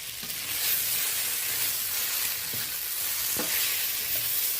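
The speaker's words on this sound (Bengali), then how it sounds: "কাঁচা লঙ্কাটা আর কালো জিরেটা সুন্দরভাবে তেলে ফুটে গেলে" Green chilli and nigella seeds spluttering in a little mustard oil for neem begun, a steady close sizzle with faint crackling pops throughout and no talk.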